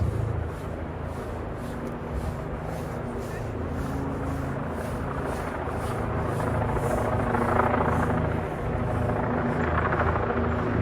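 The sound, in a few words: helicopter hovering overhead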